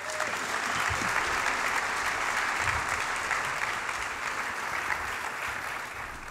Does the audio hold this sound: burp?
no